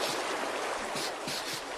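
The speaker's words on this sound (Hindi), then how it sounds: "एक जंप लगाते ही पानी ऊपर आना शुरू हो जाएगा" Rushing, churning water from a video game level where the water rises, a steady broad wash with faint rhythmic surges and no voices.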